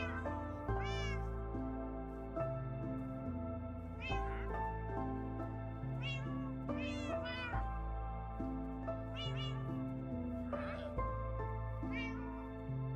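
Cat meowing in the Minecraft video game, repeated rising mews recurring every couple of seconds over steady background music.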